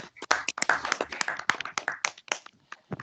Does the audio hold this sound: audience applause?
yes